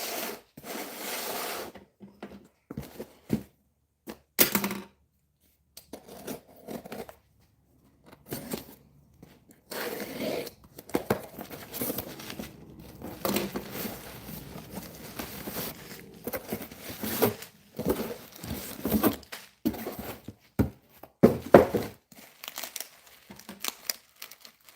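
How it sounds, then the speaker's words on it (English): Books being unwrapped from bubble wrap make scattered bursts of crinkling, rustling and rubbing plastic, close up and intermittent, separated by short quiet gaps. "Get all 4 of these out of the bubble wrap"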